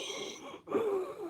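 A person's wheezing breath during sleep, one strained inhale and exhale with a brief pause between, close and fairly quiet with no talking.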